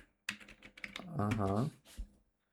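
A command is typed on a computer keyboard in a few quick, close key clicks, then a voice briefly speaks over a quieter stretch.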